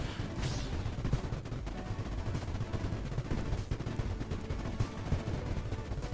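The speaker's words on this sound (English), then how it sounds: "There's so many explosions." Many explosions in the strategy game Creeper World IXE, a dense, continuous rumble of overlapping low booms and crackling blasts at steady loudness, with no pauses.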